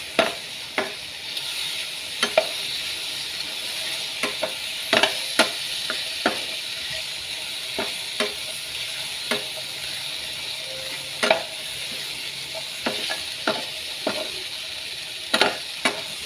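Chinese sausage frying in a pan without oil over low heat: a soft, steady sizzle with scattered small pops and occasional light clicks of a utensil against the pan, no talking.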